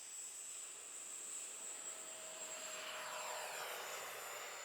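RC MiG-17 model jet with a new motor flying overhead, a steady high-pitched whine and rushing drone that holds throughout at moderate distance, swelling slightly louder near the end with no talk.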